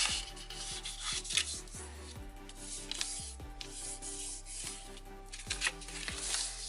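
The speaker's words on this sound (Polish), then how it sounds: "Rozkładam i składam po przekątnej z drugiej strony." Paper rustles and crinkles close by in short bursts, with soft creasing sounds as a sheet is opened out and folded again.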